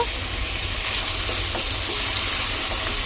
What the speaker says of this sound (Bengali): এখানে পটল আর আলুটা কেটে ধুয়ে রেখেছিলাম, তেলের মধ্যে দিয়ে ভেজে নেব।